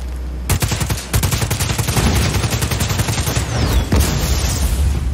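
Loud bursts of rapid gunfire pour into a generator in the action game Just Cause 4, close and dense with heavy impact booms, continuing almost unbroken for several seconds with a sharp extra blast near the end.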